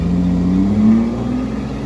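A car engine revs hard and holds high as it climbs a steep dirt road, a steady droning whine that swells slightly and then levels off, close and loud with no voices.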